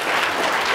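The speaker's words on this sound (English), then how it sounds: "Let's give him a round of applause." A short burst of dense applause from a crowd, steady and fairly loud, with no pauses.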